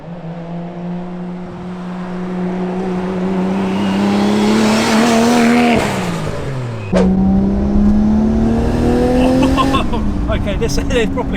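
A 910 bhp big-turbo Nissan R34 Skyline drives through corners, its loud engine note climbing steadily, dropping briefly at a gear change, then pulling hard again with faint tire noise.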